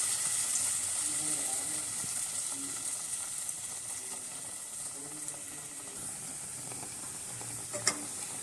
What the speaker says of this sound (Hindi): और अब मैं इसकी फ्राई कर दी।